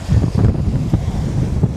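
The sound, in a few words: wind and waves at Puka Shell Beach, Boracay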